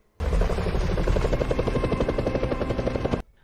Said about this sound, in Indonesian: secara diam-diam menumpang ke helikopter rumah sakit